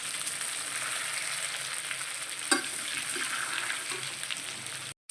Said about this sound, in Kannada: ಆಯಿಲಲ್ಲೇ ಫ್ರೈ ಆಗ್ತಾ ಇದೆ